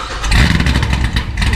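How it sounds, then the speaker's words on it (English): A car with full carbon fiber wheels, fueled with 109 race gas, fires up and settles into a loud, close, lumpy idle with a rough, throbbing rumble throughout. "I'm gonna fire this beast up right here."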